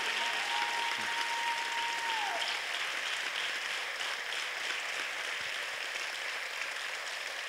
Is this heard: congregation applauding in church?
yes